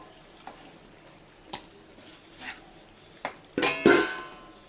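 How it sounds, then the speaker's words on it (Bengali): Lentil fritters drop into a pot of simmering liquid for a sesame-poppy seed dish, followed by metallic clinks of a utensil and a lid settling onto the pot, a few scattered knocks and then a louder clatter near the end. "এবার ডালের বড়াটা দিয়ে দেবো। এই যে দিয়ে একটু ঢেকে দেবো।"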